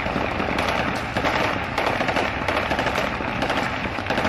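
Celebratory gunfire by Taliban fighters in Kabul crackles in dense, rapid bursts of overlapping shots that run continuously and loud, with no pauses in the volley.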